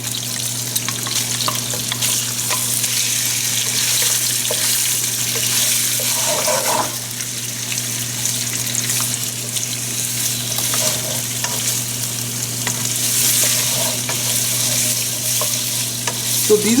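Spicy Italian sausages, cut into slices of about two inches, sizzle and fry steadily in a pan for a calzone filling, a loud continuous crackle broken by occasional stirring scrapes, with a low hum beneath.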